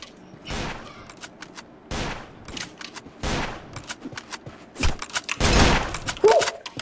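Gunfire in the Roblox shooter Caliber: sharp, loud shots come in bursts and rapid volleys, close and punchy, with a brief mechanical clack near the end.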